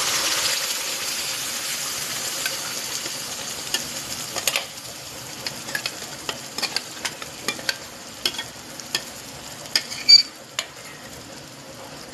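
Ground masala paste is stirred in a frying pan with turmeric, a soft steady sizzle under scattered scraping clicks of the spoon against the pan.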